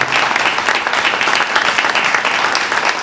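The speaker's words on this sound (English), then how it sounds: "how about a big round of applause for Carmen Ball" Loud, dense applause from a crowd at a political rally in Ankeny, Iowa, a continuous close wash of clapping that holds steady throughout without any talking.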